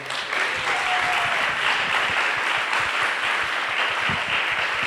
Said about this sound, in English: we would like to applaud Brecth and Amailla.